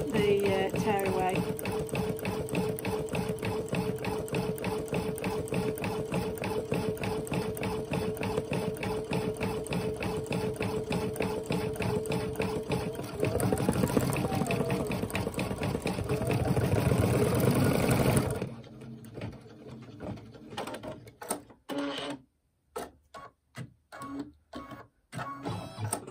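A home embroidery sewing machine stitches a gingerbread man design onto clear vinyl stabilizer, its rapid steady needle rhythm running close and loud for about eighteen seconds before stopping, followed by a few faint handling sounds.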